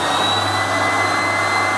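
An air blower running for a physics friction experiment gives a loud, steady, close whooshing roar with no talk.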